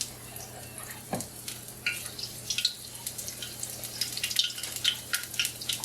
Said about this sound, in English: we're going to drop about 3 to 4 tablespoons per fritter into the hot oil